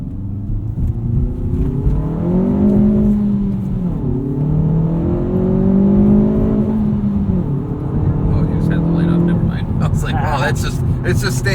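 A 2019 Hyundai Veloster Turbo R-Spec with a six-speed manual, traction control off, accelerating hard with wheels spinning: loud cabin engine roar climbing through repeated rising revs, with brief drops between gears.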